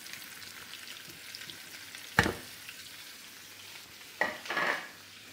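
Garlic and onion frying in a pan, a steady low sizzle broken by two close, scraping stirs of the spoon partway through and near the end.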